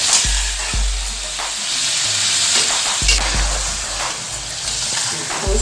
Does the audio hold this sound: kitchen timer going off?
no